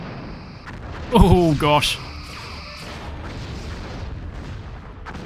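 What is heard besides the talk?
starship destroyed by weapons fire in Star Trek video game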